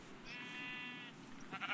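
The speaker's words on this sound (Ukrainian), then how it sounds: "Тут тільки вівці я бачу, овечки і все." Sheep bleating in the video game Minecraft, one clear wavering bleat lasting most of a second, with a brief second bleat-like sound near the end over a quiet background.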